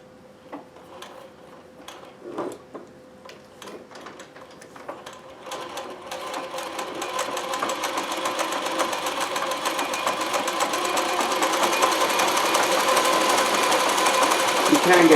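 Consew CN2053R-1A industrial sewing machine running during free motion embroidery, starting with a few sparse stitches and clicks, then building into a steady, fast mechanical whir with audible gear noise that grows louder toward the end.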